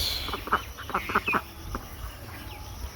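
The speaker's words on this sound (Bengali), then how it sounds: "হাঁস।" A duck at a rural village home gives a short run of several quick quacks over a quiet outdoor background.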